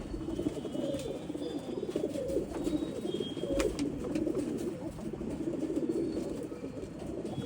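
Pigeons of an old line breed coo steadily at close range in a loft or shed, their low warbling calls overlapping continuously throughout, with no talk over them.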